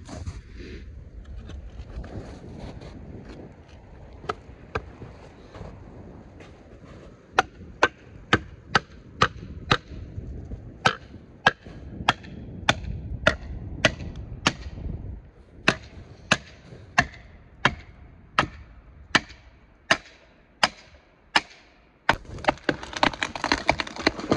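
Repeated sharp metallic strikes, a hammer driving a wedge into the felling cut of a hollow tree, speeding into a steady rhythm over a low engine drone, loud and close.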